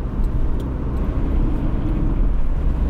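Toyota Starlet EP71 Soleil L Extra driving on a road, a steady close engine hum and road rumble running throughout with no break, loud and continuous as the small car takes corners.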